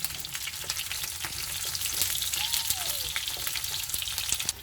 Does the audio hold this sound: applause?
no